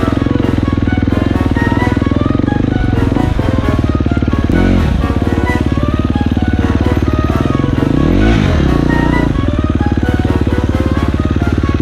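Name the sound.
dirt bike engine running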